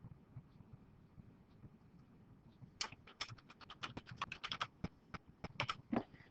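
Computer keyboard keys clatter in a quick irregular run of sharp clicks, close and fairly faint, after a few quiet seconds of low background noise.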